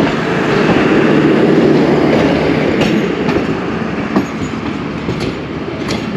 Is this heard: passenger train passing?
yes